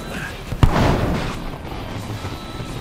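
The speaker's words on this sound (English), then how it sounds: "Their artillery's targeting you!" Enemy artillery in the Marvel's Avengers game lands with a single sharp, heavy boom, followed by a rumbling tail that settles into steady battle ambience.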